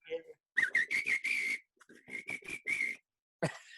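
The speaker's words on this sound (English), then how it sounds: "And the whistle, man. The samba whistle." A shrill samba whistle blown in quick, rhythmic chirps and short trills, fairly faint, with a brief sliding tone at the end.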